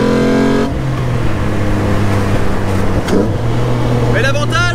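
A Jannarelly Design-1 car engine hums steadily with road and rain noise while driving in the rain, a brief rising rev near the end, while a voice talks over it.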